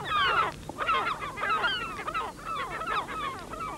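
Gulls calling in a breeding colony, a dense chorus of harsh, honking cries in quick repeated bursts, several birds overlapping close by.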